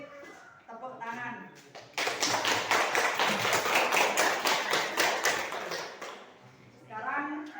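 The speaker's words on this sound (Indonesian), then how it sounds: "Beri tepuk tangan." A classroom group breaks into applause after a presentation, a dense burst of clapping lasting several seconds, with talk before and after it.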